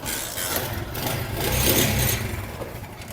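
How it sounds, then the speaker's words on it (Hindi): A 70cc motorbike engine running close by after a kick-start spring replacement, a steady, fairly loud idle throb that rises slightly in the middle, with no voices over it. "अब बाइक को हम स्टार्ट करके चेक करते हैं"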